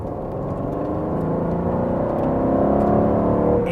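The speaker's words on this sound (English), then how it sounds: "it's a great sounding car" A 2018 Aston Martin Vantage V8 revs under acceleration, its engine note rising steadily and growing louder over a few seconds from inside the car, with no talking.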